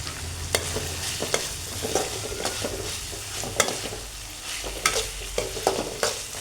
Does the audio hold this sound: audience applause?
no